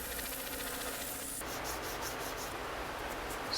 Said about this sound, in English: Then I ground the handle down